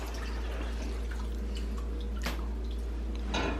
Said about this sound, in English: now let's drain the cashews